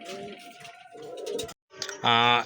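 A pair of Giribaz pigeons at a pigeon farm coo close by, low rolling calls mixed with someone speaking, followed after a brief gap by a louder burst of sound.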